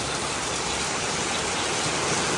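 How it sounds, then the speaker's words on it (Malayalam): Steady rain hisses evenly from start to finish, a dense, unbroken wash of sound with no voices. "നല്ല സ്റ്റൈലം മഴ"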